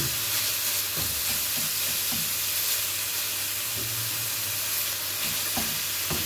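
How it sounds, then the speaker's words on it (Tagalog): Ground chicken sizzles loudly in a hot pan for a Filipino giniling dish, a steady hiss of frying with occasional scraping and stirring knocks close by. "Yung ating nilulutong giniling na chicken"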